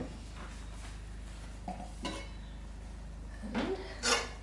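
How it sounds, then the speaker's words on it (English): Saucepan of cooked beans lifted out of a fireless cooker and set down, a few scattered metallic clanks and scrapes, the loudest knock landing near the end. "So I'm just going to take the saucepan out,"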